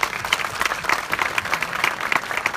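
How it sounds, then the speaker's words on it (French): Steady applause from an audience gathered in a French town hall, a continuous patter of many hands clapping at moderate distance with no talk over it. "Sous vos applaudissements, merci."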